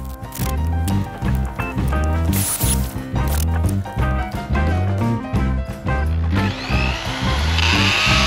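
Power drill driving Tapcon screws into wooden siding boards cut from home-sawmilled lumber, with repeated bursts of close, loud motor whine broken by short pauses.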